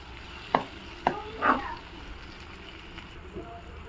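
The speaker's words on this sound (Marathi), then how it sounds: "कांदा आणि टॅमॅटो आहे ना मऊ होईपर्यंत आपण छान असं आहे ना परतवून घेणार आहोत." Onion and tomato sautéing in a pan, a few sharp spatula knocks in quick succession over a faint, steady sizzle. The knocks then settle into quieter frying, with a brief voice-like murmur.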